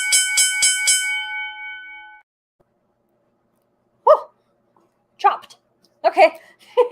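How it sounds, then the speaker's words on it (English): A bright bell strikes several times in quick succession and rings out clearly before fading, followed after a silence by a dog's short barks. "There's the bell to totally chop my train of thought"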